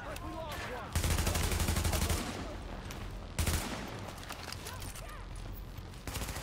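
Rapid automatic gunfire in the video game Tom Clancy's The Division, loud sustained bursts of shots with a sharp new volley midway, layered with battle noise.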